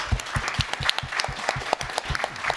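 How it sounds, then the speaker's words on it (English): A round of applause from an audience for panel guests at a Full Sail alumni talk, a brief flurry of individual claps close by, fairly loose and uneven. "let's have one more round of applause for these guys"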